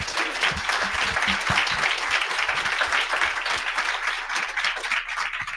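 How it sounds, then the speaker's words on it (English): An audience claps steadily in a dense, even round of applause for the panelists at a college mental health preconference, sustained and fairly close with no pauses. "let's give a round of applause to our panelists"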